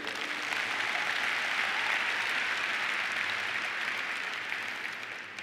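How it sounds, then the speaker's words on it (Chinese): An audience at a leadership training event applauds in a dense, steady burst of clapping that holds strong throughout and fades only slightly at the end, with no talking over it. "我们再一次给我们的 David 一个掌声。"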